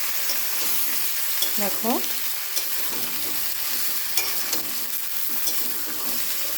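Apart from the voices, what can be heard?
vegetables being stirred and fried in a pan for fish curry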